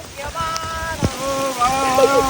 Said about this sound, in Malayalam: മഴ വന്നു ഗൈസ് മഴ വന്നു